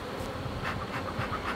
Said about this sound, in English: I have never been around this many bees before